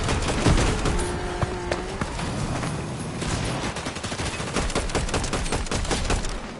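Rapid video game gunfire crackles in dense bursts, mixed with a short electronic tone and scattered single shots, loud and close with no talking.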